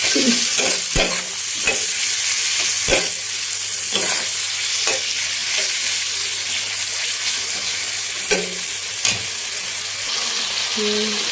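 Salt and turmeric being stirred into a cooking pan for an Odia crab curry, with a steady sizzle under a series of spoon scrapes and knocks against the pan, close and fairly loud.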